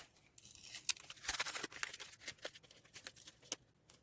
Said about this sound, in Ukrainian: Відкриваємо ось цей от пакетик.